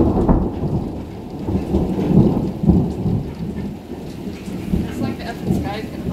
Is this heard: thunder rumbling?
yes